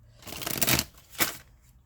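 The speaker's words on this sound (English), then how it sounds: "Last shuffle for Cancers." A riffle of cards being shuffled close up, two quick bursts of papery fluttering separated by a short pause, with no talking.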